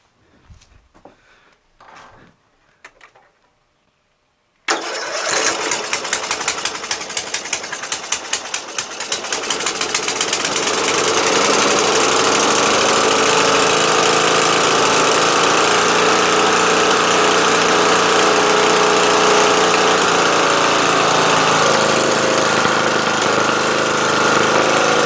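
A Murray widebody lawn tractor with a 12.5 HP Briggs flathead engine cranks briefly a few times, then catches and roars to a loud, steady, rough-running idle that continues close by without pause.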